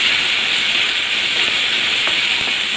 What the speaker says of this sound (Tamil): இப்போ வந்து நம்ம வெங்காயம் போட்டுக்கலாம். வெங்காயம் வந்து நல்லா வதங்கட்டும்.